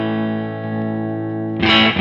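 Electric guitar through a Kernom Ridge overdrive pedal set as a clean boost: a sustained, slightly driven chord rings steadily, then a brighter strummed attack near the end, played alone without talk.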